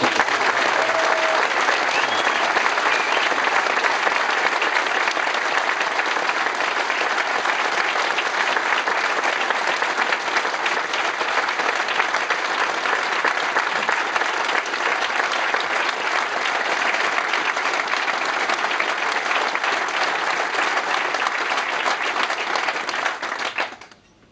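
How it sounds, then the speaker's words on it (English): A large audience gives loud, sustained applause to the staff of the Plymouth Argyle football club. The dense, even clapping carries on for over twenty seconds before it cuts off abruptly. "it would be pertinent if it is the biggest round of applause today"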